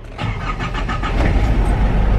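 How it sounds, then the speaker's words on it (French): A car engine cranks with a quick rhythmic series of starter turns, then catches and settles into a loud, steady rumbling idle close by. "écoutez le moteur."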